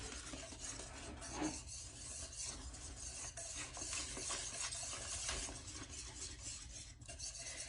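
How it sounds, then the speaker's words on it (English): Cake mix batter being stirred in a bowl gives a steady, continuous scraping and swishing for about eight seconds, close and moderately loud, with no talking. "So I'm just mixing the cake mix as it says on the box."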